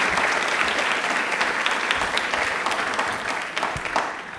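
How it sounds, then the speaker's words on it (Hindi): A studio audience at a televised railway quiz programme applauds its contestants with loud, dense, continuous clapping that carries on unbroken. "एक बार प्लीज जोरदार तालियां हो जाए हमारे सारे कंटेस्टेंट के लिए"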